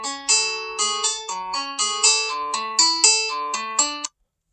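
A piano plays the opening phrase of a piece, a flowing run of clear single notes in steady rhythm for about four seconds before stopping abruptly into silence.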